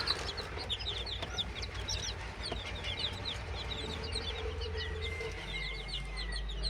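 Steady chorus of chicks peeping and chickens clucking, many small birds chirping together at close range, with a low background hum.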